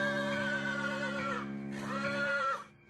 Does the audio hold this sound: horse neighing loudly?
yes